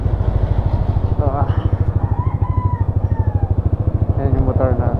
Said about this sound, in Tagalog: yan yung motor natin guys.